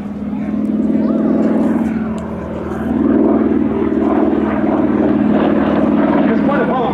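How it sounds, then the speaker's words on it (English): North American T-6 Texan (Harvard) propeller trainer flying at a Shuttleworth Fly Navy airshow, its engine a steady loud drone that swells and holds throughout, with a commentator talking over it. "T-6 Texan or Harvard."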